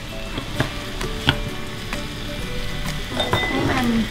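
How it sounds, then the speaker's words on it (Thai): Chicken and mushrooms stir-fried with soy sauce and oyster sauce, a steady sizzle broken by repeated clinks and scrapes of a spatula against the pan, close and continuous. "ผัดให้เข้ากันนะแม่"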